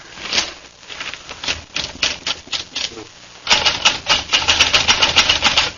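A manual typewriter clatters in a fast, uneven run of keystrokes, a radio drama sound effect from 1941, louder and denser in the second half, with no voices.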